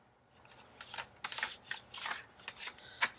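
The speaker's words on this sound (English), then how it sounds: "We'll just cut that one." Scissors snip through a journal page in a series of short, crisp cuts, close and fairly quiet, with brief pauses between strokes.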